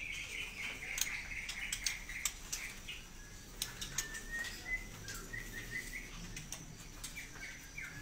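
Murai (magpie robin) songbird at a bird market, bright, fast chirps and whistled phrases in quick bursts over quiet background rustling and soft fluttering.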